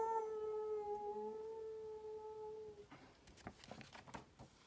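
A voice imitates a dog howling, holding one long, wavering, mournful tone for a few seconds. Faint shuffling and small noises follow.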